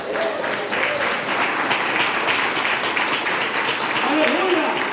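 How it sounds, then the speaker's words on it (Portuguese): A standing church congregation claps along during a worship service, a dense steady wash of applause with voices and some singing-like tones mixed in. "Palmas para Jesus."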